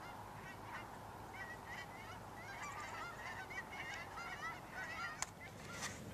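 A flock of geese honks overhead in Fairbanks, Alaska: faint, distant, overlapping calls keep up a steady clamor over open outdoor ambience for several seconds, with no talk.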